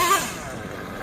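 Kyosho USA-1 Nitro V2 RC truck's small nitro engine revving high while pulling wheelies, a brief buzzing whine close by.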